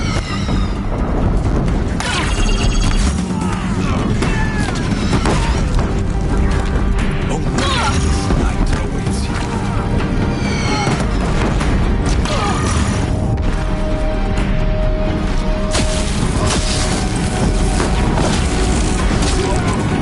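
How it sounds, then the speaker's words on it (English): Deathbringer war machines firing on a bridge in Horizon Zero Dawn, with a constant loud barrage of booms, crashes and mechanical clatter filling the whole stretch, and other game sounds mixed in. "If the Deathbringers keep firing, this bridge will go"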